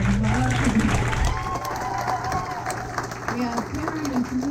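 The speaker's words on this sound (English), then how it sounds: "So we can give them a round of applause." Audience at a school Christmas banquet applauds steadily for several seconds, a dense wash of clapping with a murmuring crowd and a voice talking over it.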